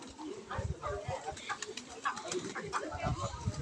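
Several pigeons perched together, their low cooing rising in soft repeated bursts amid a busy mix of other noises and someone talking throughout.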